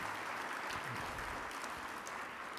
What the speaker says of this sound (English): So let me give them a round of applause.